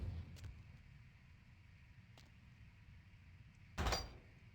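Door slams shut in a haunted hotel in Vampire the Masquerade: Bloodlines, a single loud thud near the end after a quiet stretch with faint knocks.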